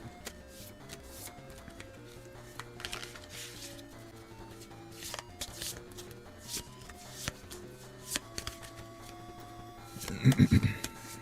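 A deck of cards from a board game is shuffled on a tabletop. Soft, scattered riffling and tapping runs quietly under steady talk and builds to a louder flurry of card noise near the end.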